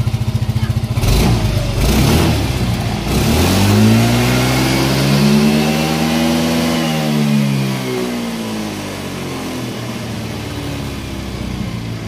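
A remapped Yamaha Mio M3 scooter engine is revved hard to about 10,500 rpm, rising in pitch to a sustained high whine, then falling back toward idle; loud and close, with no talking.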